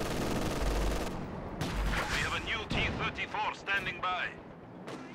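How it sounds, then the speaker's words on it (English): A Soviet mortar in Company of Heroes 2 fires alongside other battle noise, with booming reports and dense gunfire-like bursts in a busy mix, and a voice talking partway through. "There's a Soviet mortar for Luke."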